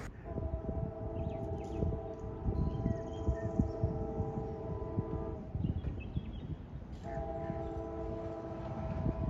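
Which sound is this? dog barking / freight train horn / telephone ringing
freight train horn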